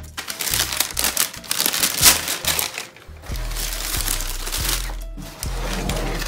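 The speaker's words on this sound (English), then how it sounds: "Got this sick Off-White wrapping paper right here." Off-White wrapping paper crinkles and crumples loudly and up close while a pair of Nike Off-White Blazer shoes is unboxed, with bursts of rustling that settle into a few softer handling sounds.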